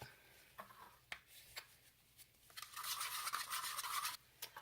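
Fragrance oil is mixed into cold process soap batter with faint, close scraping strokes and taps in a container, building into a steadier hiss of brisk stirring near the end.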